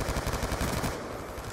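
Long-range gunshots in Black Ops 2, a rapid loud rattle of repeated shots filling the short moment, with no talking over it.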